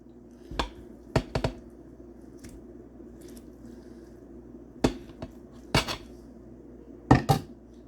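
Knife cutting through cast-iron-cooked chicken breast on a plate, a handful of sharp clicks and scrapes scattered over several seconds against a quiet kitchen room tone, with no talking.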